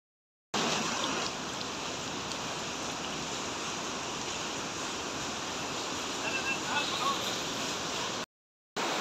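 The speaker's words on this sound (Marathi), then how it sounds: "200 फूट उंचीवरून पडणारा हा धारेश्वर धबधबा." The Dhareshwar waterfall at Marleshwar in the monsoon, dropping about 200 feet, gives a constant broad roaring rush of water that stays even and loud, with no voices heard.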